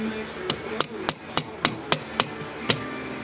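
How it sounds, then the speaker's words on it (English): A marring hammer taps an M1 carbine part into place, eight sharp, evenly spaced metallic knocks up close, with no voices. "So just get it kind of lined up with a marring hammer. Just kind of hammer it in there."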